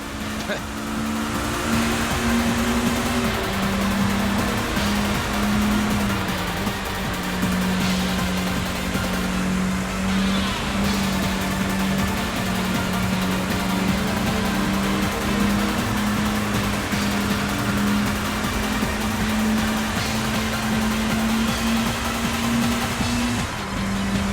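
Racing cars roar continuously in Sega GT 2002 on the Xbox, a loud steady engine drone holding one pitch with small rises and dips as they race toward the finish, while a voice talks over it.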